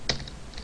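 A few quick keystrokes on a computer keyboard while writing Java code, close and clear, in a short burst with no talking.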